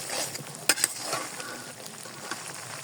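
Spice paste with turmeric and salt sizzles steadily in hot oil for a sweet, sour and spicy raw mango pickle, with a couple of sharp clinks as it is stirred.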